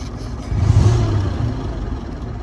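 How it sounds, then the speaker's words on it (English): Classic Swift car engine revs briefly, rising to a hum, then settles into a steady low idle, close and moderately loud with no talking. "I'll rev it up and goes up. But it'll go back down and tick over"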